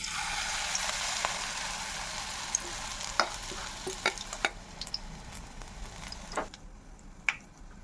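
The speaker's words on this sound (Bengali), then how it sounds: "এবার আমি এটাকে তেলের মধ্যে ছেড়ে দিচ্ছি" Tomato chops coated in gram-flour batter sizzle steadily in hot oil, a close, continuous crackling hiss with scattered sharp pops and spatters and no talking.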